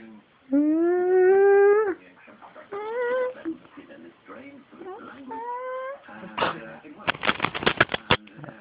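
A dog at home makes odd vocal noises: rising tonal howls and whines in several bursts, then quick yips and snuffling near the end, close by with a person's voice now and then.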